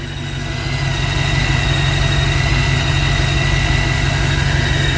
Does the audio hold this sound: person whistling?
no